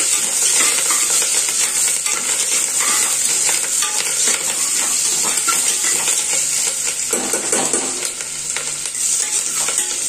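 Onions, green chillies, curry leaves, cashews and black pepper sizzle loudly in ghee for restaurant-style pongali, a steady close frying hiss with constant stirring scrapes throughout and no voices.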